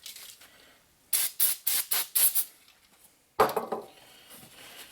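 Brake cleaner sprayed onto an SR20 engine oil pan: about five loud, hissing squirts in quick succession, then a rougher, fading spray burst after a short pause.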